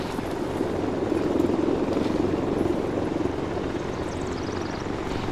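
Enemy Mi helicopters fly in the video game ArmA 3, giving a continuous steady rotor and engine drone at moderate level with no breaks.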